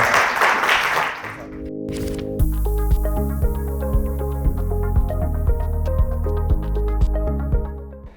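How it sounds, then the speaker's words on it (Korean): Audience applause for a speaker at a Korean economics forum lasts about a second, a loud burst that cuts off and gives way to upbeat music with a steady beat. "박수 한번 주세요."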